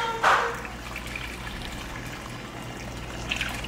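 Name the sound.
water poured into pot for noodle soup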